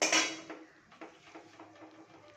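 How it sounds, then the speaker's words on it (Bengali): A metal lid set onto a pan of hilsa fish curry, a loud clanking clatter at the start followed by faint small clinks and rattles. "এবার ঢাকা দিয়ে রাখবো আমি।"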